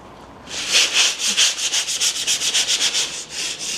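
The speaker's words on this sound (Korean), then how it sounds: "사포를 좀 해봐야 될 것 같습니다." Rhythmic rasping strokes of coarse sandpaper on a worn solid-wood floor in an old country house, about a dozen back-and-forth passes in quick succession, close and fairly loud.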